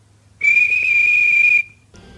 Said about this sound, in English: The guard waved his flag and blew his whistle.